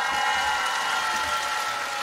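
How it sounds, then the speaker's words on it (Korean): Audience clapping for the first contestant on an outdoor Korean televised singing contest at Ttukseom Hangang Park in Gwangjin-gu, Seoul: a dense, loud, steady wash of applause throughout. "첫 번째 출연자에게 박수 주세요"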